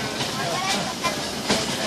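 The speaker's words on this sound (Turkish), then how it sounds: "Eski bir tren. Kömürle çalışan buhar treni." An old coal-fired steam train runs through green Highland woodland, giving a continuous close hissing rumble with faint rhythmic rail clatter and a few soft surges.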